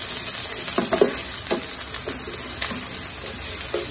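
Onions sautéing in hot oil for chicken pininyahan, a steady close sizzle with occasional stirring scrapes throughout, no voices.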